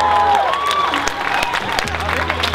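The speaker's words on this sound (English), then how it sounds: "Give them a round of applause" A crowd at an outdoor folk music festival claps and cheers loudly as guest performers come onto the stage, with a whistle and voices mixed into the dense noise.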